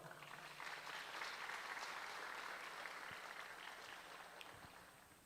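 A church congregation claps during a sermon, a dense, sustained wash of applause from many hands that swells early and slowly fades toward the end.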